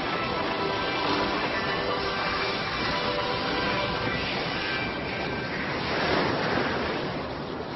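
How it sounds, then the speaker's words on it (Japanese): The ocean surface bubbles violently as the sea starts to boil, a dense, continuous roaring wash like heavy surf that stays loud throughout. "海面が激しく泡立ちます。"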